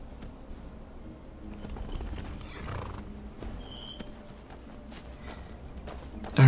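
Horse hooves clip-clopping on a road in the video game Skyrim, a soft, steady rhythm of hoofbeats at moderate distance over faint ambient background.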